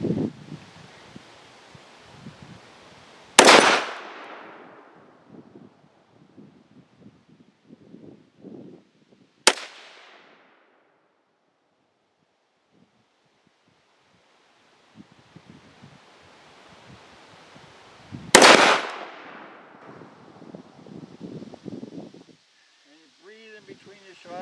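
Three loud rifle shots crack out at wide intervals during military-style shooting-position practice, each sharp report trailing into a decaying echo, with quiet rustling and a man's instructions between them.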